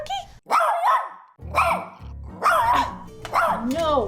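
A dog barks and growls in several separate bursts, close and loud, with a gap between each outburst.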